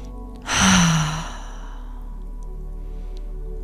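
A long, slow breath pushed out through the mouth during a guided breathwork session, a single airy exhale that swells and then trails away into a quiet room, with no talking over it.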